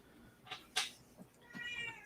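A cat meows indoors with a few short, fairly faint cries, then a longer drawn-out meow toward the end, with no one talking.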